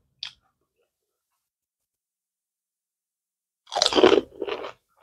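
Crisp fuchka being bitten and chewed during an eating challenge: a tiny click, a pause of silence, then a loud close crunch followed by a second shorter burst of chewing.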